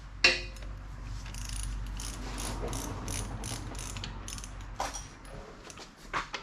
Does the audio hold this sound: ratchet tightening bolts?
yes